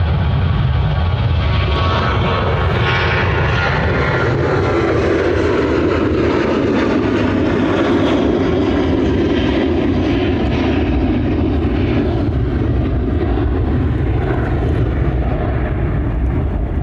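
A fixed-wing airliner at Dublin Airport rolls onto runway 28 right to line up, its engines producing a loud, steady roar and rumble that holds without a break throughout, with no talk over it.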